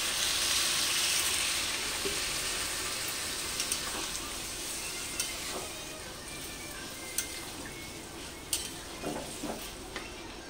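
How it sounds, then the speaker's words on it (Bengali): Water poured into fried spice paste for a vegetarian curry sets off a loud hiss that slowly fades, with occasional metal clinks from the pan and spoon and no speech. "এবার আমি পরিমাণ মতো একটু জল দিয়ে দিচ্ছি অল্প করে।"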